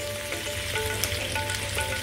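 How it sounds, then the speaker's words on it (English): Chicken fries undisturbed in a pan, giving a close, steady sizzle with faint crackles over a couple of seconds. "Whilst our chicken is frying away"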